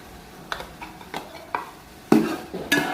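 A spoon stirs yogurt into masala paste in a pot, giving repeated wet scraping strokes roughly every half second, close and clear, with the last few louder.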